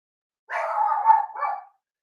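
Several dogs bark in a short cluster, close and fairly loud, with a brief pause before a final bark, and no other sound around them.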